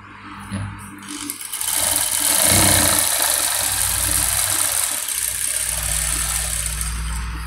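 Single-needle sewing machine stitching back and forth on a hat, a motor whir that starts up and runs steadily, loud and close, with a brief change in tone midway.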